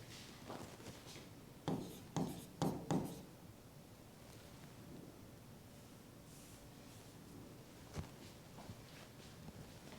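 Pen writing on paper during a physics lesson on electric force and charges: soft scratchy strokes, with a quick run of four sharper scribbles near the start and a lone tap later, under faint background hiss.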